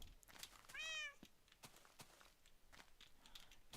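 A cat meows once in a video game, a single rising, tonal cry near the start, then soft clicks and footstep-like taps continue at low level.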